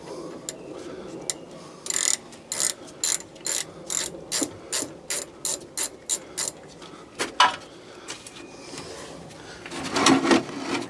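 A ratchet wrench clicks in quick repeated strokes while loosening a 12 millimeter drain plug bolt on a John Deere 625i engine, a close, steady series of sharp clicks with brief pauses.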